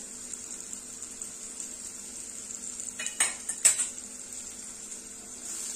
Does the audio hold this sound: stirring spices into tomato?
yes